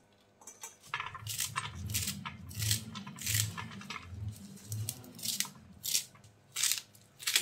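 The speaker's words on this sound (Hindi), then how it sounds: "तो इसे पहले हम काट लेते हैं बारीक, इस तरीके से बराबर करके इसे काट लेंगे हम।" A knife finely chops fresh mustard greens (sarson saag) on a board in a series of crisp, close, fairly regular strokes, with brief pauses between bursts.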